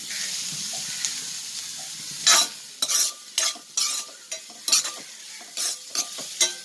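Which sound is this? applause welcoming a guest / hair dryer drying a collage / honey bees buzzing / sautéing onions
sautéing onions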